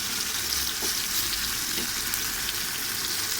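Country chicken sautés and gets stirred in a pan, with a steady, dense sizzle of frying filling the whole stretch and a few soft scrapes of stirring on top; no voices.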